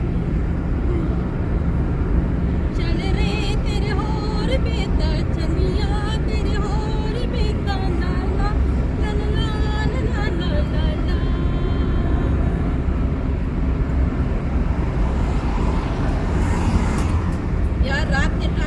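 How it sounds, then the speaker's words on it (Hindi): Car cruising on a motorway near Islamabad at night at about 120 km/h, a loud steady roar of engine and road noise with passing traffic, while someone talks over it. "मोटरवे से अभी हम जा रहे हैं 120"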